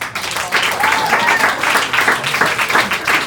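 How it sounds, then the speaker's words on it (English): Audience applause at a comedy cabaret theater show, a dense steady wash of many hands clapping with a few whistles, sustained and fairly loud throughout. "So give yourselves a round of applause."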